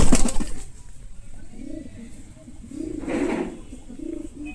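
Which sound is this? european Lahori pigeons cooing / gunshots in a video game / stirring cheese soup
european Lahori pigeons cooing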